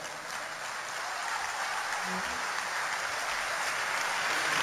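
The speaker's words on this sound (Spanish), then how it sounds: "Fuerte aplauso." Steady applause from a large concert crowd in the Gran Teatro Nacional during a folk music anniversary show, a continuous dense roar of clapping that holds evenly and grows slightly louder toward the end.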